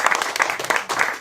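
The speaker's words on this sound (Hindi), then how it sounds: "आप लोग प्लीज थोड़ी तालियों से मेरा बढ़ाइएगा प्रोत्साहन" Brief applause from an audience at a Hindi poetry reading, several quick bursts of clapping close and fairly loud, over in about a second.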